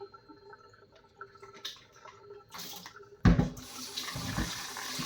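A kitchen tap gushes into the sink while fish is washed indoors. The water switches on abruptly after a quiet stretch with faint background sounds, then runs as a steady close splash.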